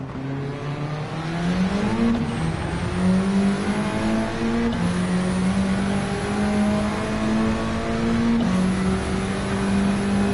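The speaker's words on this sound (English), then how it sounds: "We just got passed by the Mini" A Mini race car in Gran Turismo 7 roars past, its engine note climbing and shifting through gears in steady rising sweeps, loud and continuous throughout with no talk.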